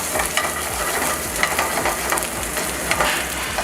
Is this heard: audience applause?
no